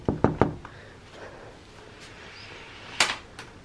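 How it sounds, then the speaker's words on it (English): A room door at a farm lodge in Uganda takes three quick knuckle knocks, close and sharp, then after a quiet pause two more knocks. "So we need to knock the door first"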